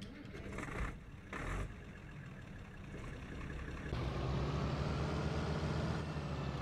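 A vehicle engine from a mod in the farming game Farming Simulator 19 runs steadily, a rumbling hum with a couple of brief bursts early on, then a louder, fuller drone toward the end.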